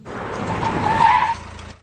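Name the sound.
car speeding away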